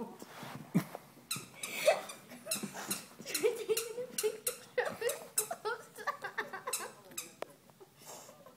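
Dogs whimper and squeak in rapid, high-pitched bursts close by, a restless string of whines and yelps with snuffling in between.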